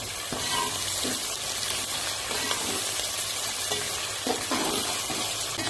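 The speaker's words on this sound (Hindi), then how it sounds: "अब मैं इसमें अदरक और लहसुन का पेस्ट शामिल कर दूंगी और 2 मिनट के लिए इसको चला लूंगी" Ginger garlic paste sizzles steadily in a hot pan while a spoon scrapes and stirs it every so often, for an aloo matar moongre curry.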